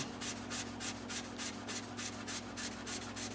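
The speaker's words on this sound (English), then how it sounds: "Now I'm going to start dry sanding with this toll cut." Steady dry sanding of a Guild D25 guitar's black sparkle finish with an 800-grit pad, rhythmic back-and-forth rasping strokes about three per second, close and continuous with a low hum underneath.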